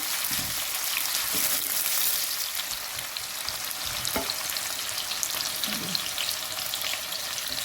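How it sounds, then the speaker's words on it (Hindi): Onions frying in a little oil in a very hot kadhai, a soft, even sizzle up close with occasional faint knocks from stirring. "कढ़ाई ली है, इसमें थोड़ा सा तेल डाला है और इसमें मैं प्याज डाल रही हूँ।"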